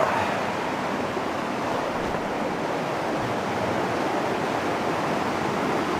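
Steady rushing of a forest stream heard up close, a broad continuous wash of water noise with no speech.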